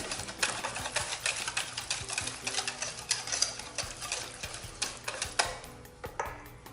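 Crêpe batter being stirred by hand in a bowl after sugar is added, with a steady run of quick, close clicking and tapping strokes from the utensil against the bowl for several seconds, no talking.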